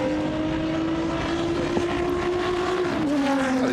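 A BMW racing car engine at a Goodwood Members' Meeting, a loud, sustained howling note held steadily as the car passes close by, with the pitch dropping slightly near the end.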